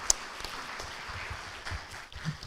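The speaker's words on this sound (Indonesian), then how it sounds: "Tepuk tangan buat Bang Rocky dong." Brief, fairly faint audience applause at a talk on corruption, a soft patter of clapping with a sharp clap near the start and little else.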